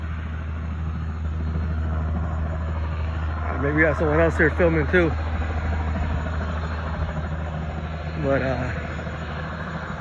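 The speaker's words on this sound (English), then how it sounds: "You got a plane taking off over here." An airplane taking off near an abandoned CITGO truck stop in Joliet: a steady, low, distant rumble runs throughout while someone speaks briefly over it.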